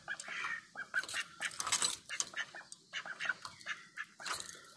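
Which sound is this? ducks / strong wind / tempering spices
ducks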